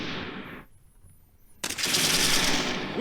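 Machine gun fire from the Close Combat 3 war game, with an opening burst, a short lull, then a loud, sustained rattle of rapid automatic shots that runs to the end.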